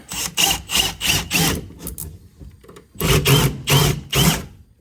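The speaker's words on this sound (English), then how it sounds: "All right, so we're gonna drill a hole." Several bursts of a power drill boring into material, each lasting about half a second, in a rhythmic on-off pattern with a short pause midway.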